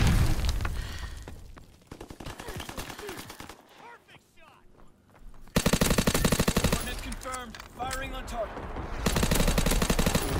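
Bursts of the Waffe automatic weapon rattle through a shooter game match in rapid, loud strings. Quieter gaps fall between them and other clattering effects mix in, with some voice underneath.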